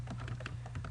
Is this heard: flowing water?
no